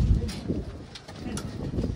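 Racing pigeons coo in a loft, low, soft throaty murmurs that repeat in overlapping bursts and carry on steadily close by.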